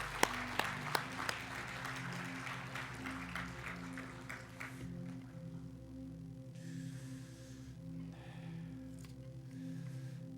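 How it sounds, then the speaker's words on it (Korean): A congregation claps at a Korean church retirement and ordination thanksgiving service. The clapping is dense and lively for about four seconds over steady sustained keyboard or organ tones, then fades and leaves the music continuing alone. "다시 한번 큰 박수로 한번 격려해 주시기 바라겠습니다"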